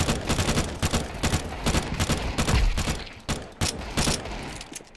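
Rapid gunfire bursts from a Counter-Strike 2 match, dense overlapping shots and mechanical clatter at steady loudness, with a heavy low thump mid-clip and sharper, sparser reports toward the end.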